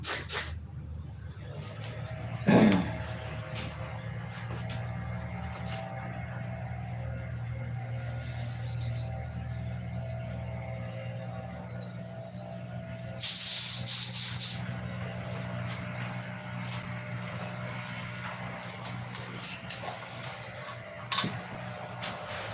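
An airbrush sprays white paint onto a carbon fiber spinner in two short, hissing bursts, one at the very start and a longer one later, over a steady low background hum.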